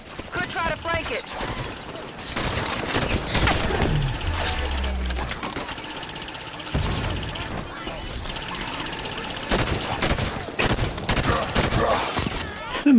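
Turret firing in Halo 5 blasts out in dense, loud bursts of rapid fire over a busy battle mix, with a talking voice running underneath much of it.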